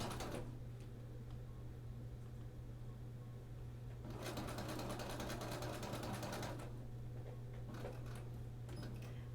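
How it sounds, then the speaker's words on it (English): A sewing machine stitches a quarter-inch seam on bias-cut quilt binding fabric, a close, steady mechanical hum with a faster rattling burst of stitching in the middle, set against a constant low electrical drone. "So I'm gonna sew my 1/4 inch seam allowance."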